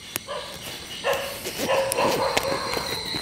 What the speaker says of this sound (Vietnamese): con chó này thấy mình sủa hoài trời